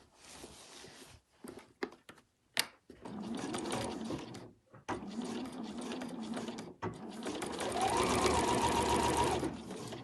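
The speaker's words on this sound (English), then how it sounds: "So I'm going to sew down both of those seam allowances." A sewing machine stitches down both seam allowances on a fabric overlocker cover, running in a steady mechanical whir after a few clicks and knocks, with short pauses and a longer, louder final run.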